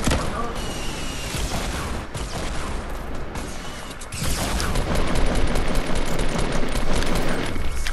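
Fortnite gunfire and rocket explosions roar on without a break, rapid automatic fire layered with deep booms that swell louder in the second half, while voices talk over the fighting.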